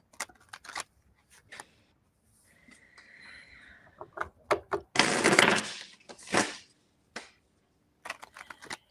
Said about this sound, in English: when I'm shuffling the cards